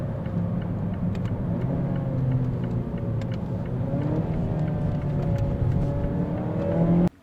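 A 2019 Mazda Axela engine hums and rises in pitch under acceleration as gears change quickly, a steady close in-cabin drone with shifting tone that cuts off abruptly at the end, with no talking.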